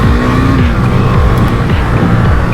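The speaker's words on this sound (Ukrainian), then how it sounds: "Тут раз, АБСік спрацював." A car brakes hard with its ABS engaging, giving a loud, close roar of engine and tire noise with pulsing, shifting tones as the wheels grip and release.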